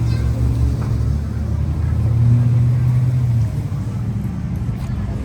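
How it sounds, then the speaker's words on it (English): A Southern Miss bus rumbles past nearby, its low engine drone swelling to a peak mid-pass and then fading away, with no talk over it. "There goes the Southern Miss bus."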